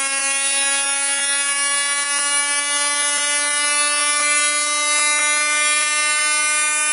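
A CDI ignition throwing high-voltage sparks nearly 5 cm long gives a steady, loud electrical whine with a fast, regular ticking crackle running through it.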